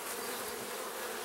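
Honey bees swarm in an opened hive, producing a dense, continuous buzzing hum that sounds close and steady throughout the short moment.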